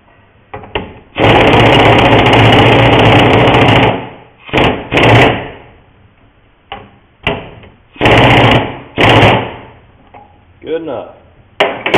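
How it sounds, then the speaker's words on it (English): Several loud, buzzing bursts come from an impact wrench driving a 1 5/8 inch socket on a Case 175C crawler loader. One long run is followed by shorter blips, with quieter gaps between them. "I'm just going to use impact on it"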